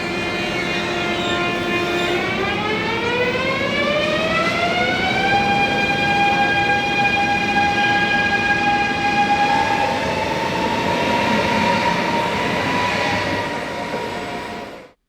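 A brand-new ICE 3 Neo high-speed train at Utrecht Centraal station gives off a loud, steady rising electric whine and hum as it accelerates, with tones climbing and then levelling off over a constant rumble of wheels on rail.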